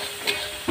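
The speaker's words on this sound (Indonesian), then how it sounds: "Nah ini goreng nasi" Fried rice sizzling in a pan, a steady close hiss of frying with two brief louder scrapes or stirs, no talking.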